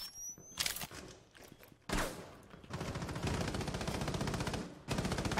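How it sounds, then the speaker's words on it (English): Gunfire in the tactical shooter Rainbow Six Siege: a sharp burst of shots early, a single loud report, then long, rapid automatic bursts of fire that are fairly close and continuous. "They're shooting at me."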